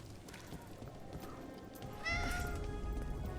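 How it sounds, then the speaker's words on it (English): A cat meows in the Dragon Age: The Veilguard video game, one short, clear meow rising near the end over a soft background hum. "Oh, hi, Cat"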